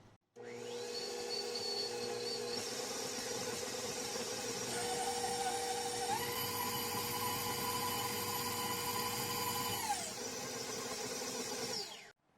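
Electric stand mixer creaming butter and sugar at speed 4, a steady whirring motor whine that starts abruptly, shifts pitch upward partway through, runs for about ten seconds and cuts off, alone without talk.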